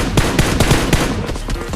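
In a classic-mode shooter video game, a gun is tap-fired at enemies in quick, evenly spaced bursts of close, punchy shots, about five in under two seconds, with no speech over them.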